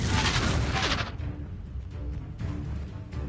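Confringo fire explosion spell in the Hogwarts Legacy video game, a loud booming burst at the start that fades into rumbling combat noise with a couple of smaller impacts.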